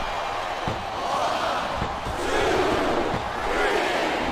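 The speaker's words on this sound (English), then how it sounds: "I love hearing the crowd come alive" A roaring arena crowd in the wrestling video game WWE Smackdown vs Raw 2007, a steady, loud cheer with a few dull slams from the ring punctuating it.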